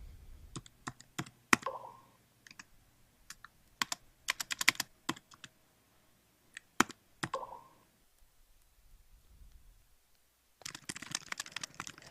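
Keystrokes clack on a computer keyboard in quick irregular bursts, close and clear, with pauses between runs and a dense flurry of typing at the end; no one speaks.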